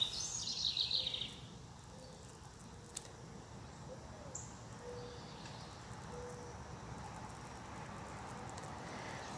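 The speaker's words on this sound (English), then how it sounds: "listen to the birds" Birds singing in a garden with monarch butterflies, a brief cluster of high chirps at the start, then faint scattered calls over a steady outdoor hiss.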